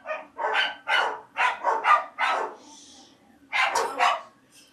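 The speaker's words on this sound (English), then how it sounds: "the dogs are going crazy. What they're doing is they're fighting the vacuum." Indoor dogs bark in loud, close, repeated bursts at a running vacuum cleaner, a quick volley followed by a short pause and more barking, with the vacuum's low steady hum underneath.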